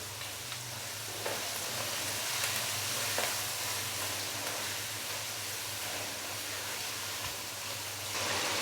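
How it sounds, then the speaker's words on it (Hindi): Whole cumin, cardamom, cinnamon, black peppercorns and cloves fry in hot oil, giving a steady close crackling sizzle throughout with faint occasional stirring knocks. "तो ये डाल देंगे, थोड़ा मिक्स करेंगे और हल्का सा हम इनको फ्राई कर लेंगे।"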